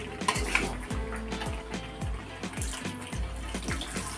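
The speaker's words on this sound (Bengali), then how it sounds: "এরপর দিয়ে দেবো জল।" Water is poured into a pot of chicken being cooked down with spices, a close, gurgling stream of liquid with splashes and a few clinks against the pot.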